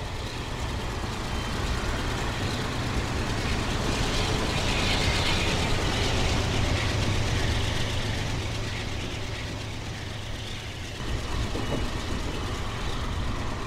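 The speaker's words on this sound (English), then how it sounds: "here comes the train" Train arriving in the Train Simulator 2017 game, a steady low engine rumble and rolling hum that holds loud and even throughout, with a slight dip near the end.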